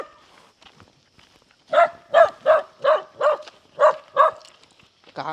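Dogs bark at a rural house, a run of about eight loud, close barks in a fairly even rhythm after a quiet start, with no talking over them.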